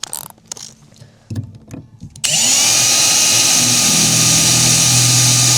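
Drilling bolt holes through metal to mount a plate on an N70 Hilux. A few quiet handling clicks come first, then a power drill starts up and runs loud and steady with a high whine, close by.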